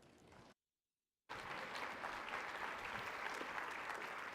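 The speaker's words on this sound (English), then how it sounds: "let's give some applause" A conference audience breaks into loud, steady applause for keynote speaker Bill Eggers after a short silence. The clapping is broad and sustained through the end, with no talk over it.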